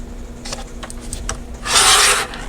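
A sticker planner cover is trimmed, with several short scraping strokes followed by one longer, louder rasping pass, all close up and with no talking.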